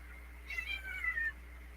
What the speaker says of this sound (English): Oh, you heard my cat? He's up here being a big tail whiner right now.